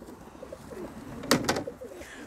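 Pigeon cooing at a breeder's loft: soft, low, repeated coos in the background, interrupted by a pair of brief sharp bursts near the middle.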